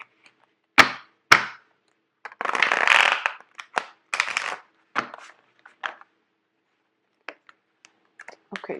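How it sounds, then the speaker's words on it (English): Tarot cards shuffled by hand in quick bursts, with soft riffling rustles and brisk slaps, close and fairly quiet, broken by short pauses. "they keep refusing to shuffle"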